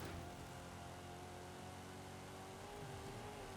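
Engine of a 6.2 liter V8 race car in Forza Horizon 5, a steady sustained drone with rising tonal harmonics throughout, moderately loud and continuous with no talk over it.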